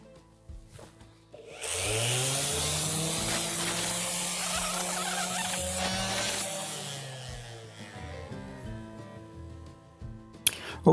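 An orbital sander works a wooden surface with Festool sandpaper, a loud continuous whir with a grinding hiss that holds steady for several seconds, then tapers off as the tool winds down.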